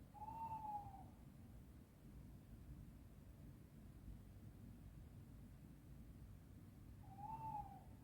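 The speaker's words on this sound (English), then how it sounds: "we've been greeted and visited by an owl" An owl hoots twice at a lakeside carp-fishing spot at night, one call at the start and another near the end, each a short wavering hoot over steady low wind and ambient rumble.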